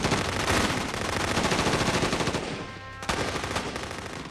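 Sustained automatic gunfire from a war movie battle scene, dense and loud with rapid overlapping bursts, briefly dropping off before resuming at full intensity.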